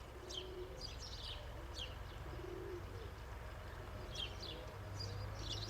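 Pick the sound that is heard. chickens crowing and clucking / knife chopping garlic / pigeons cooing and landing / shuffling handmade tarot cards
pigeons cooing and landing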